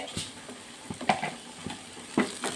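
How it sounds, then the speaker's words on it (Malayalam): Sliced onions are stirred in a pan, giving sizzling frying and irregular scraping clacks of a utensil against the pan, close and fairly loud. "സവാള ഇട്ടിട്ട് ഇതാ നല്ല രീതിക്കൊന്ന് മിക്സ് ചെയ്തെടുക്കാം"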